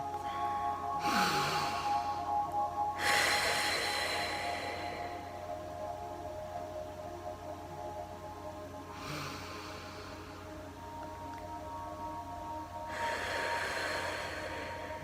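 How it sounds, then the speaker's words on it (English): Slow, deep breaths during a pregnancy stretch and relaxation session, heard as four soft, airy inhales and exhales spaced several seconds apart against a quiet background. "Breathe."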